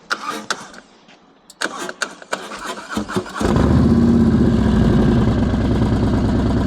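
A motorcycle engine fires up after a few clattering attempts and settles into a loud, low, uneven chugging as it lugs along at walking pace.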